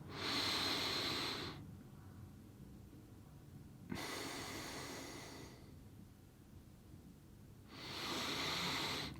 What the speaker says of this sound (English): So you breathe in for 4 seconds, hold it for 4 seconds, breathe out for 4 seconds, hold it for 4 seconds.